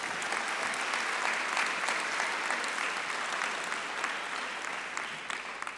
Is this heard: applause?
yes